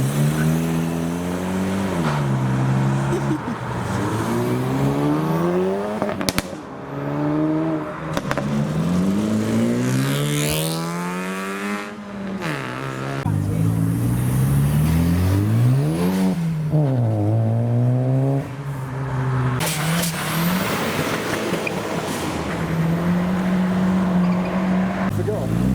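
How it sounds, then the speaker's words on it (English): An Isuzu car pulls away from a rainy car meet, its engine rising and falling through several revving, accelerating sweeps over about 25 seconds, loud and fairly close, with people talking nearby. "The Isuzu's leaving."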